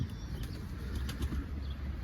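Pigeon flapping its wings while entering its nest, with a few soft, quick wing beats and faint flutters, nearby but quiet, with no voices.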